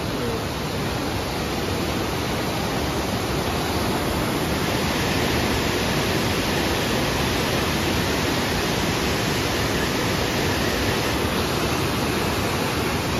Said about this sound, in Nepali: हेर्नु सक्नुहुन्छ खोला पनि कस्तो ठुलो छ हो।